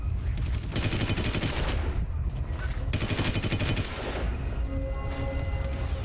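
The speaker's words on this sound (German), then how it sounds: "Dann schieße ich mich halt durch." Dense bursts of gunfire from shooting through enemies in the video game Hitman Absolution, loud and close, with rapid volleys broken by brief pauses.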